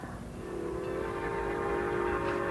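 Steam-style whistle of the Northern Star train sounding as it approaches a station, a sustained tonal blast over rumbling rail noise, fairly distant and steady, with no talking.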